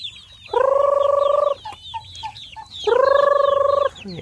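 Chickens kept by an elderly couple give two long, drawn-out calls about a second each, with small birds chirping faintly in the background and no talking.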